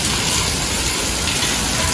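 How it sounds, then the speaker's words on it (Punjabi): Rain falls with a cool wind, a dense, steady, loud hiss of water washing over everything with no pause and no voices. "ਠੰਡੀ ਠੰਡੀ ਹਵਾ ਨਾਲ ਹੀ ਮੀਂਹ ਦਾ ਤਾਂ ਵਧੀਆ ਲੱਗਦਾ"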